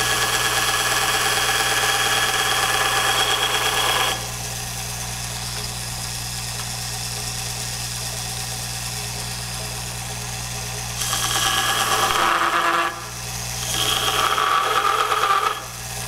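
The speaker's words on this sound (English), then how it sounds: "The other thing we're going to be using is a Dremel to get into these tight spots on this holster." A Dremel rotary tool trims a Kydex holster, a steady high whine running nearly the whole time, louder at the start, dipping briefly, then surging again near the end with a couple of short gaps.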